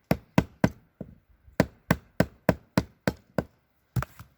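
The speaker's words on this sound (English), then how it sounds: "I don't have a good place to hammer here." Sharp knocks of an ESEE 6 knife being hammered through wood to square off the end, about a dozen crisp strikes in a steady rhythm with one short pause, close and loud.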